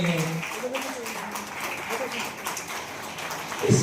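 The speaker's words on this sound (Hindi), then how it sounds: "जोरदार तालियां बजती रहनी चाहिए।" Audience applause at a seminar, a dense rain-like patter of many hands clapping steadily, with a voice speaking over it near the start and end.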